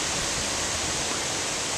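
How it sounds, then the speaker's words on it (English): Water from a lawn sprinkler blown by strong wind, a steady close hiss of spray and rushing air with no talk. "It's blowing the water all the way over here."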